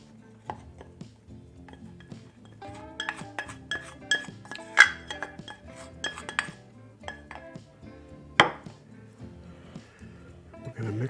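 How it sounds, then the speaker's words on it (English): Wet mixture being added to dry ingredients in a bowl for ANZAC biscuits: close clinks and knocks of utensils and bowls, irregular and fairly busy throughout. "Now we're going to add a prepared wet mixture to our dry ingredients."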